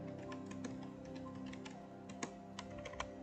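Fingers type a command on a computer keyboard while setting up network port security, giving faint, close, irregular key clicks with a few sharper taps near the end.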